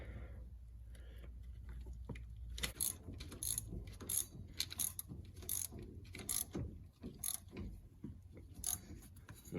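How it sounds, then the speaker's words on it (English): A ratchet clicks in quick bursts of rapid pawl ticks while tightening a bolt on a 1992-1997 OBS Ford truck steering shaft, close and faint after a low hum, with short pauses between strokes. "take your bolt, and start throwing it back in"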